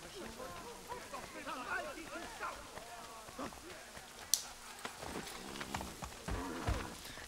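A horse's hooves clip-clop at a brisk, steady pace in Assassin's Creed 3, close and moderately loud amid other game noise, with one sharp bang partway through.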